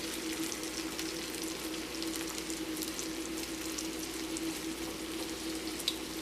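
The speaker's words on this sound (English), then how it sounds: "Let's kind of start stirring it up like that." Food being stirred in a pot on the stove, heard as a steady close sizzle and fry hiss with faint soft stirring movement underneath, continuous and even throughout, no talking.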